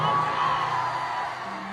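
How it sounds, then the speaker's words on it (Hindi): A crowd at a live stage show in Kolkata whoops and cheers loudly, a dense swell of shouting voices that eases slightly toward the end. "खोखंडा के लिए एक जोरदार हल्ला करके ताली बजाइए"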